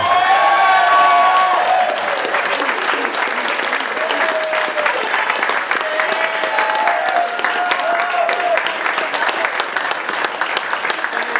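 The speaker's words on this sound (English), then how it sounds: "you'll have heard from the applause in the room" Loud, sustained applause with cheering and whoops fills the room at an end-of-season awards night for a football team, steady from start to finish with a few shouted calls rising above the clapping.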